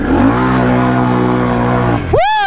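Can-Am Outlander ATV driven at full throttle into deep water, a loud close engine roar holding steady at high revs, then a sudden sweeping pitch rise as it plunges in.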